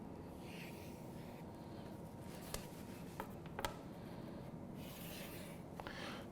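Hand drawing of a geometric figure on paper or a board, with soft continuous scratching strokes and a few sharp tick-like taps, quiet and close, with no talk.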